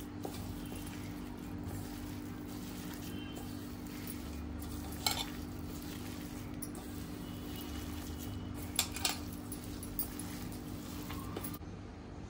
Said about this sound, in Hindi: आता सगळं मिक्स करून घ्यायचं आहे आपल्याला चांगलं।